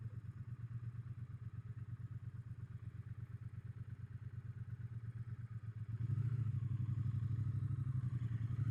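A Triumph Bonneville T120 motorcycle makes a slow U-turn on a road in the Trough of Bowland. Its quiet, pulsing idle gives way to a fuller, steadier throttle rumble for the last few seconds.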